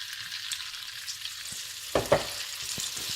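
Vinegar poured into melted butter in a pan gives a steady close frying hiss with a brief burst of sharper sizzle and a couple of stirring knocks, no voices.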